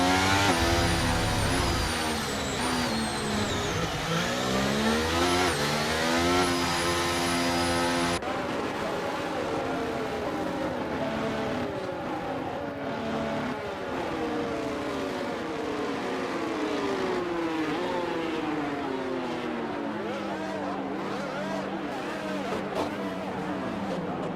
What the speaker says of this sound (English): the cars take their positions on the grid